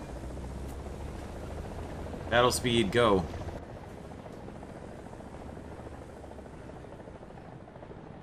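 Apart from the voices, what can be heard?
friendly helicopter flying in the video game War Thunder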